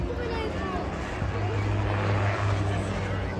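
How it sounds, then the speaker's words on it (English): An autogyro's engine drives the rear pusher propeller at an airshow, giving a steady droning hum that grows stronger midway, under someone talking throughout. "So the engine noise you hear, that's actually powering the propeller at the rear of the aircraft."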